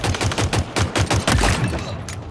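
Gunfire in a first-person shooter video game, where a pistol is in use: a rapid string of sharp, punchy shots fires at a steady rhythm, loud and close, with no voices.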